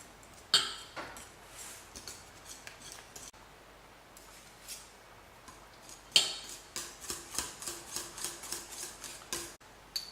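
A spoon stirs and scrapes through a thick paste of icing sugar being worked into a cake filling, with soft repeated clinks and taps against the bowl, a few sharper knocks, and a steady rhythmic run of light strokes toward the end.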